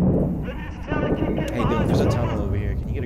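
Gunfire in the Six Days in Fallujah military shooter game, with shots and rumbling blasts mixed into a dense battle soundscape, heard under near-constant voice chat from players.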